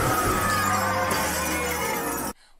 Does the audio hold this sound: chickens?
no